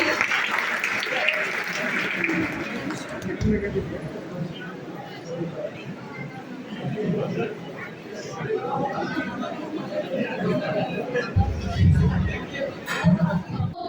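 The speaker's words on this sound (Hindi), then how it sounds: "एक बार जोरदार तालियां नेहा प्रकाश के लिए।" Audience at a B.Ed college event in Patna applauding for performer Neha Prakash, loud sustained clapping that soon mixes with crowd chatter and voices, continuing throughout.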